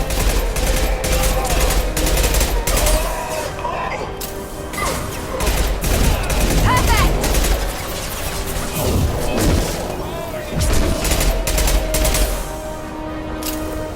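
Rapid gunfire in the video game Mass Effect 2, dense bursts of automatic shots and heavy impacts crashing almost continuously, loud and close, with battle chatter mixed in.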